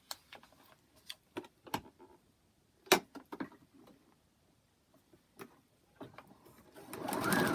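A sewing machine stitches a fabric paper-pieced quilt block for a butterfly charm pattern, giving short bursts of close clicking stitches with pauses between, then a louder rushing run at the end, and no talking.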